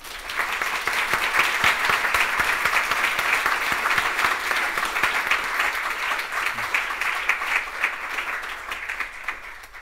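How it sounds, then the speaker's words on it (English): An audience at a live criminal justice reform panel discussion applauds the panelists, sustained dense clapping lasting about ten seconds at steady volume before slowly tapering near the end. "let's give our panelists a round of applause"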